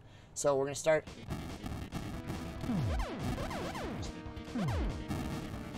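Rocket explosions in the SD The Great Battle video game: several loud booming impacts with descending sweeps, repeating over a steady game backdrop, after a short burst of speech at the start.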